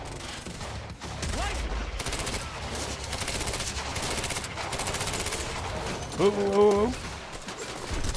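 Sustained rapid gunfire from the video game Quantum Break rattles almost continuously, with bursts and a brief tonal game cue near the end, while a player speaks briefly over it.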